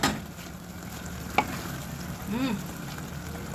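Egg white frying in a pan with bitter gourd leaves and sardines, giving a steady soft sizzle with a single sharp clink of a utensil partway through and a faint rising tone near the end.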